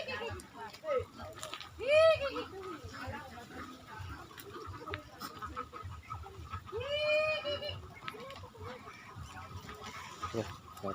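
A flock of domestic ducks on a farm in the Philippine countryside, calling in loud honking bursts, with a few prominent quacks close by and a steady chorus around them, under people talking.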